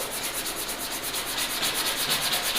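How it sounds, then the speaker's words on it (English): High build primer on the fender area of a Pontiac GTO body is lightly hand-sanded, a close, steady rhythmic scratching with repeated back-and-forth strokes and no talk. "let me give it a light sanding."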